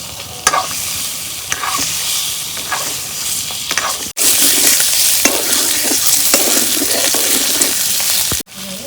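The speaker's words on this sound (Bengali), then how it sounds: "এই দেখো আমার ডিমগুলা কি সুন্দর ভাজা হয়েছে" Eggs fry loudly in hot oil in a pan, a dense continuous sizzle and crackle with scraping stirs, cut off abruptly twice.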